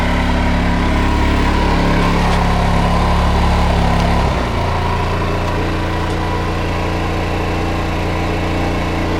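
Van engine running loud and close with the air conditioning on, a steady droning hum that dips slightly about four seconds in as it idles down, then continues at a lower, smoother level.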